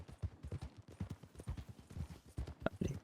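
Horse hooves clip-clop steadily along a road in Red Dead Redemption, a quick close rhythm of hoofbeats with no talking over them.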